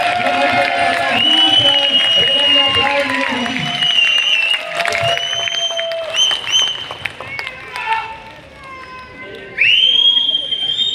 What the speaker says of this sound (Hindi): दोनों हाथ ऊपर करके पूरी तालियां, पूरे सीटों, पूरे सम्मान के साथ